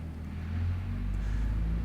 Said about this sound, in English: Even the limitation of this truck making noise in the background